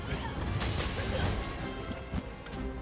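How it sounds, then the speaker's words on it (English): Heavy hammer blows smashing into a monster in Monster Hunter Rise: Sunbreak, a dense, loud run of crunching impacts over busy game music and effects, with one sharper hit near the end. "Me smashing a monster in the face with a hammer"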